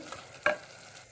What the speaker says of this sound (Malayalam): അടപ്പ് തുറന്നിട്ട് നമുക്ക് ഇതൊന്ന് ഇളക്കി കൊടുക്കാം